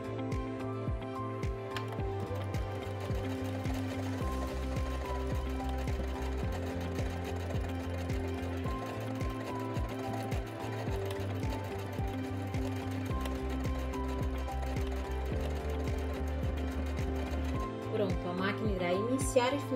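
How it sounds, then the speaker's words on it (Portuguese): An SE918 sewing and embroidery machine stitches a buttonhole in fabric, running in a steady, continuous mechanical hum with rhythmic stitching ticks that shift in pitch as the stitch pattern changes, close and prominent throughout, with someone speaking over it. "Encaixo aqui o tecido, abaixo aqui a sapatilha e venho costurando."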